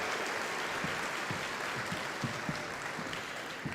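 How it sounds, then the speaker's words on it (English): Audience applause fills a large hall at the 2024 Pokémon World Championships in Hawaii, a steady wash of many hands clapping at moderate distance, with no voices over it. "please, one more round of applause for that amazing Hawaiian welcome"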